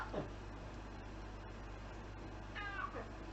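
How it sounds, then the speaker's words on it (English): A sleeping cat, apparently dreaming, lets out two soft, squeaky little meows, one at the start and one near the end. Both are faint and close against a quiet room hum. "There's these cute little meows."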